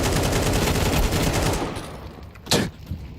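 SMG gunfire in a Counter-Strike esports match, a dense rapid burst of shots for about a second and a half that cuts off, followed by a sharp single impact and a few fainter sounds.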